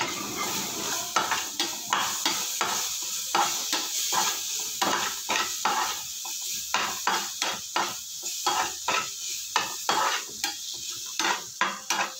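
Leftover-roti noodles tossed with turmeric and red chili powder in a pan: repeated rhythmic scraping and clanking of a spatula against metal over a steady frying hiss, close and fairly loud.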